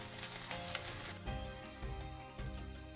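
Birria meat searing and frying in a hot pan, a loud, continuous sizzle with crackling spatter, shifting slightly as the meat settles or is moved.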